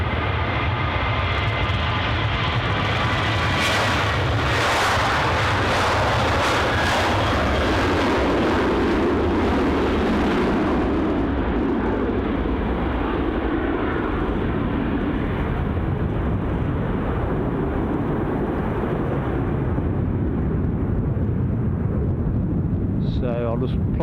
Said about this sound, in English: So our first takeoff of the show.